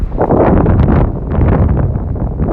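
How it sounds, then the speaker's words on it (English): Steady wind buffeting the microphone outdoors, a continuous low rumbling roar with gusty swells throughout. "It's a little bit windy out here."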